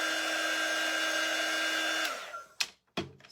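Handheld hair dryer blowing steadily on a painted wooden door hanger with a vintage truck design, a loud constant whine that cuts off abruptly, followed by a couple of sharp clatters.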